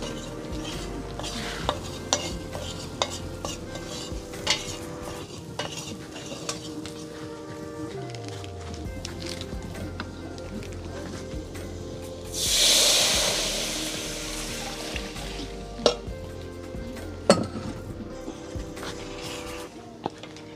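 Curry sizzling in a hot pot while being stirred, with scrapes and clinks of a spoon against the pot over a steady fry and a brief louder hiss partway through, close and without talk.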